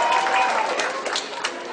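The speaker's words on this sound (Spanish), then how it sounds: "fuerte el aplauso." Guests at a celebration applauding a couple, a brief burst of clapping that swells and then thins, with some voices mixed in.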